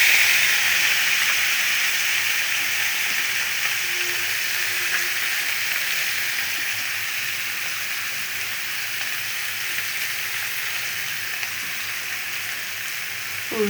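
Fish fries in hot oil with a constant, close sizzling hiss that stays even and fairly loud throughout, with no voices.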